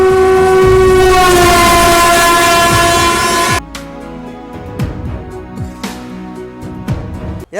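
A WDP 4D EMD diesel locomotive at an Indian railway station sounds a loud, long horn blast, then its engine rumbles beneath sharp clanks and rail clatter.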